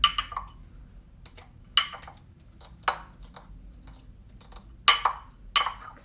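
Sharp glassy clinks and taps as the bottom of a sage bundle smashes blueberries in a dish, about seven separate hits spread irregularly, close and fairly loud over quiet background.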